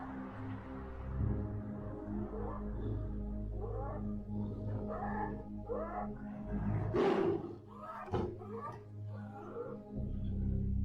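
A tiger roars deeply and reverberantly at moderate distance, a long rumbling growl with a louder surge partway through, over a steady low background hum and no talk.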